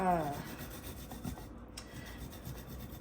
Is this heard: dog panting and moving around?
no